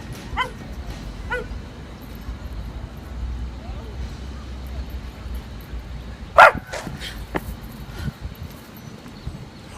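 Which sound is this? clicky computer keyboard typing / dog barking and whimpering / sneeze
dog barking and whimpering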